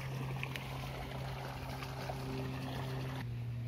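Irrigation water running steadily through pipes in a village farm field, a continuous close rushing and trickling wash with a low hum beneath it and no voices.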